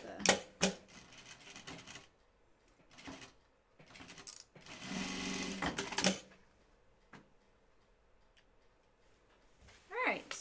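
Sewing machine running in short bursts while stitching the back seam of a denim jean skirt, the motor whirring in several separate runs of a second or two, with pauses between.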